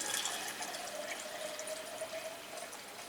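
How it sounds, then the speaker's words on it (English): Fresh water runs steadily into a flower vase, a continuous close pouring and filling sound with a faint rising tone, no voices. "Fill this up with our fresh water here."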